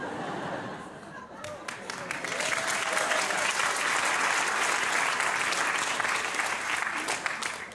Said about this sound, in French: Ça, ce sont des applaudissements de femmes de 49 ans.